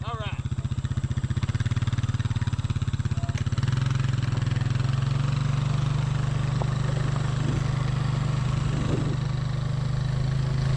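A worn-out Honda CR500 two-stroke motorcycle engine runs loudly and close during a holeshot start, a steady rough drone that rises in pitch and intensity about midway, with a voice briefly heard under the engine.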